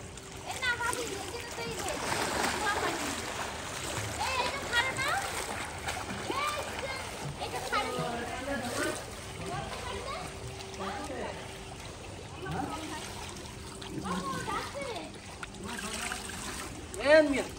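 Water from a waterfall splashes and splatters continuously at Nakhatra Bari in Gazipur, a steady rushing wash heard throughout, with people, including children, talking over it.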